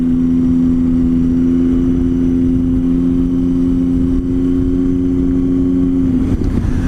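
A Triumph Tiger motorcycle engine on overrun gives a steady drone with a strong low hum, running evenly at moderate loudness before briefly roughening near the end.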